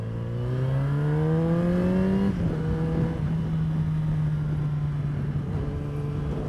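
Yamaha XJ6 Diversion inline-four motorcycle engine and exhaust, close and loud, revving up with rising pitch for about two seconds, then holding a steady throaty drone with the revs settling, alone without talk.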